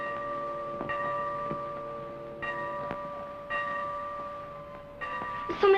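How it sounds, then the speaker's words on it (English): Church bells ring out in slow, spaced strikes, each clang sustaining a long resonant hum between the next peals, with no speech, heard at night in a 1932 Madame Butterfly setting. "So many bell I must count."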